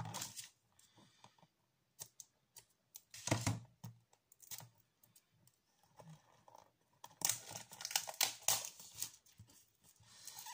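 A new painting canvas from a paint pouring kit is unwrapped, with scattered crinkling, tapping and rustling handling noises close by, busiest toward the end.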